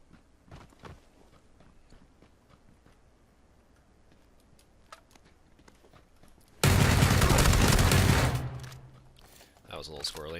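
A loud burst of gunfire erupts in a shooter video game after quiet stretches of faint footsteps and clicks, then fades away as someone speaks.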